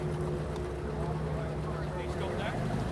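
The very first Porsche car pulls away from its display plinth in first gear, its engine a low, steady drone with a voice talking over it.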